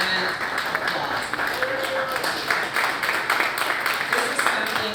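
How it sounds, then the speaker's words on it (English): Applause from a crowd at a community spring mixer event, steady moderate clapping with a bright crackle that holds evenly for several seconds without pause. "Let's give her a grand applause"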